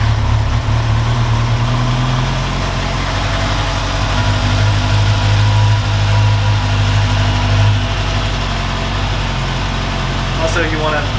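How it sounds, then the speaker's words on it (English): A 2010 Kawasaki ZX-10R engine idles in neutral just after an oil change, a loud, steady close-up drone that holds evenly throughout, with a brief rattling sound near the end. "make sure your bike's in neutral. Go ahead and start it up."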